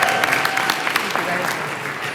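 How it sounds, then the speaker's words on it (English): Audience applause rings out at an awards ceremony grand finale, a steady patter of clapping hands from a sizable crowd lasting a couple of seconds. "You could tell from the applause that there's quite a few of us out there in the audience"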